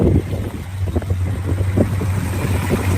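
A classic muscle car engine with headers idles steadily and smoothly close by, giving a low, even rumble with gusts of wind noise across the microphone.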